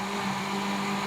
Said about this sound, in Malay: So blender.